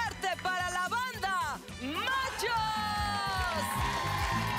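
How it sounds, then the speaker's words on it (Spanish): A studio audience at a special cheers and whoops for the band over loud, pounding banda music with brassy melody lines, the crowd noise mixed under the playing rather than standing alone. "un aplauso más fuerte para la banda"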